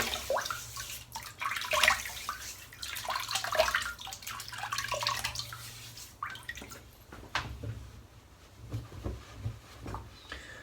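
Water splashing and dripping as a head is wetted before shaving, with bursts of running-water rush and trickles, close and uneven, fading to scattered drips and splashes toward the end, no talking.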